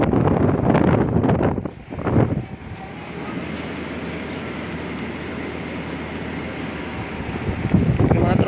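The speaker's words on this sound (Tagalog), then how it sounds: "Andar na yung compressor. Yan, maandar na compressor mga tropa. Maandar na yung fan blade." An air conditioner's compressor and fan blade, running after an emergency electronics board repair, hum as a steady broadband whir that holds for several seconds. Voices and handling noise come in at the start and again near the end.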